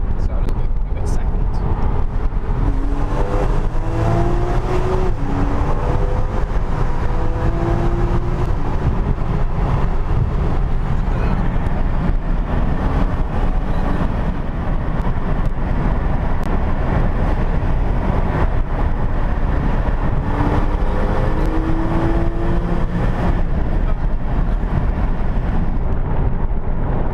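A Porsche Boxster S, a two-seater, two-wheel-drive sports car, drives through a tunnel. A loud, constant engine roar and road rumble fill the cabin, with people talking over it.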